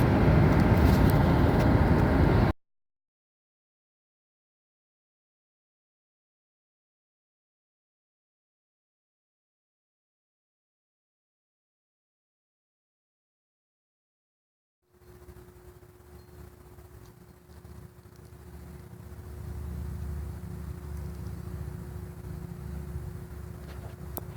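A car drives along a mountain road near Iron Mountain and Pembine, with steady low road and engine rumble rising slightly as it goes, after a brief loud burst and a long silent stretch.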